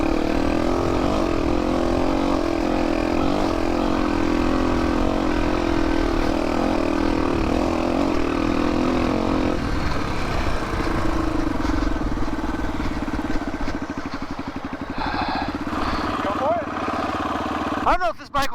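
A rebuilt Yamaha TTR 230 dirt bike engine drones loudly and steadily, shifting pitch partway through as revs change, close to the listener, and near the end it eases off and briefly revs.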